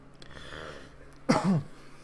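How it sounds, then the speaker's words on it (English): A single short, harsh cough bursts out close by, brief and throaty, followed by quiet room noise. "I hate coughing near the mic"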